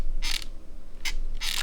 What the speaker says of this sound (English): it will also make a squeaking noise when pressing down on the top 2 rows with a decent amount of force